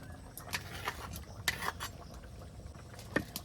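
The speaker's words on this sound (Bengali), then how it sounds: "তরকারিটা হয়ে গেছে, এখন ভাজা জিরে বাটাটা দিয়ে দেবো।" Fried cumin paste goes into a pot of thin fish curry with taro and potatoes; a spoon clinks sharply against the pot several times at uneven intervals over a quiet kitchen background.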